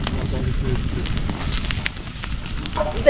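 A campfire burns in a forest while a whole tandoori chicken cooks over it, giving a steady roaring and crackling with light wind noise, close to the microphone, with people talking faintly nearby.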